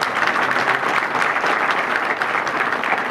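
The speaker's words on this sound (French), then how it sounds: "Il y a de quoi applaudir." Sustained applause from an audience at a military school graduation ceremony, a steady dense clapping with no break that holds for the whole stretch, with no voices standing out.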